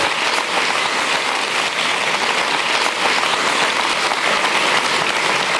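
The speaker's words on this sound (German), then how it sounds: "dann hat er natürlich auch diesen riesen Applaus verdient" Loud, dense applause from a large studio audience for violinist David Garrett on a German talk show, a continuous roar of clapping that holds steady throughout with no talking.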